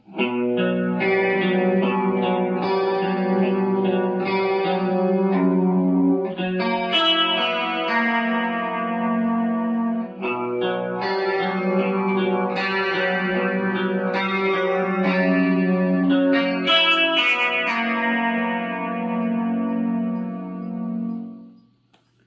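Distorted electric guitar plays an intro riff, steady and repeating with chorus and echo, ringing notes continuing loud and unbroken for over twenty seconds.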